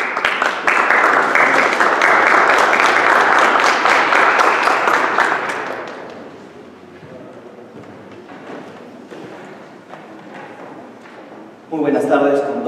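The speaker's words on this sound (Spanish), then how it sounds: "Lo recibimos con fuertes aplausos." Audience applause greeting a guest speaker at a public law congress, a loud, dense burst of clapping for about six seconds that fades into quieter scattered claps and room noise.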